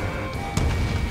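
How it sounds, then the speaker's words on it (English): Missile launch in the flight combat game Ace Combat 7, a short whooshing burst that surges suddenly over a steady loud engine drone and fades into a rumbling trail. "Missile fired."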